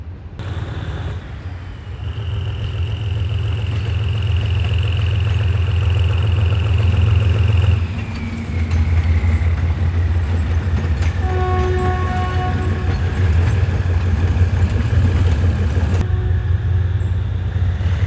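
An SRT passenger train, number 282 from Kabin Buri, sits at a platform in Bangkok's Hua Lamphong station with a loud, steady diesel engine rumble, a sustained tonal whine that shifts partway through, and a brief horn-like tone near the end.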